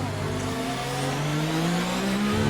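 Race car engine in F1 2019 accelerating under full throttle down a straight, a steady loud whine with harmonics climbing in pitch through the gears, continuous and close, with faint tire noise beneath.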